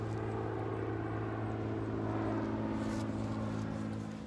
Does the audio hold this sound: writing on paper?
no